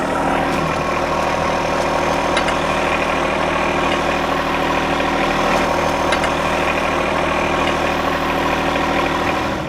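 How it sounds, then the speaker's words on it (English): A John Deere 1025R compact tractor idles steadily nearby, its engine running at a constant loud hum for the whole stretch, with no talk over it. "now he'll put it in 4-wheel drive and simply back off the mower deck"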